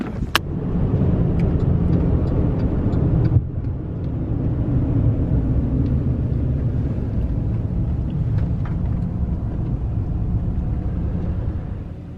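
A car drives along a road toward a trailhead, a steady close interior rumble and road noise with a few small knocks, no talking.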